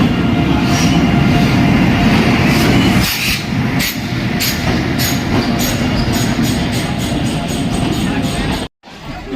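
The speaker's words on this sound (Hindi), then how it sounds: "फाइनली अपनी ट्रेन आ गई है जो कि जम्मू से हम लोग को कटरा लेके जाएगी" A passenger train on the Jammu to Katra line arrives, its rumbling wheels and clattering cars filling the scene steadily, with a busy platform crowd and voices mixed in, and a short drop-out near the end.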